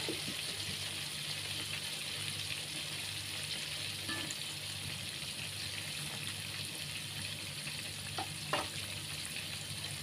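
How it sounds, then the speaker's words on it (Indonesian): Mushrooms and potatoes fry in oil for rendang, a steady dense sizzle filling the whole stretch, with occasional stirring scrapes and small clinks and no talking. "Ini mau sekali goreng saya biar tidak bolak-balik."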